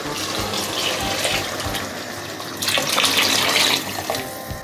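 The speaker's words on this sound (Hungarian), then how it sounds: "akkor jöhet a víz" Water pouring steadily from a tap into a pot of bolognese ragu after the wine has cooked down, a continuous close splashing rush that grows louder and fuller midway.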